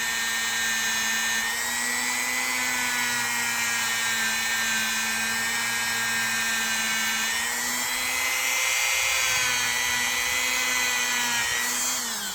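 Wire wheel spinning against pocket knife back springs during restoration of a gunstock trapper knife: a continuous loud, high whine with shifting scraping grind, steady throughout with no talk.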